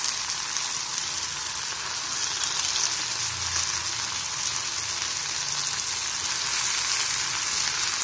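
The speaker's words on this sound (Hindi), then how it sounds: "इसे थोड़ा फ्राई करेंगे। अब हम इसमें खीमा डालेंगे।" Mutton keema (minced meat) frying in a pan gives a dense, even sizzle that holds steady up close for several seconds with no talking.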